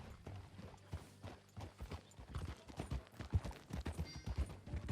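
Quiet, rhythmic horse hoofbeats from the video game Red Dead Redemption 2 clip-clop along at a steady walking pace, the hooves landing in an even pattern throughout.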